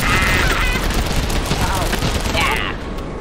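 In a Miniworld manhunt match, loud, dense gunfire rattles continuously in rapid bursts before fading slightly at the end, with a player talking over it.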